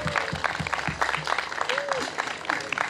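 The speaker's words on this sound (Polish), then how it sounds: "I brawa dla Agnieszki." An audience at a beach faith gathering in Gdynia claps for a singer named Agnieszka, a short burst of mixed applause with voices and sung notes cutting through.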